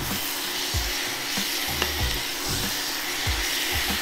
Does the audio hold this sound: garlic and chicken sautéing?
yes